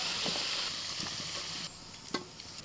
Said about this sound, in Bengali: আলুকে একটু ভালো করে ভেজে নিয়ে তুলে নিচ্ছি